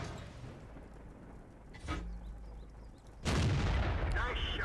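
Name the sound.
tank cannon firing in World of Tanks video game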